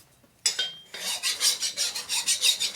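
A file rasps across the machined surface of a 1978 Harley shovelhead cylinder head, about a dozen rhythmic strokes after a short scrape, close and fairly loud with no talking.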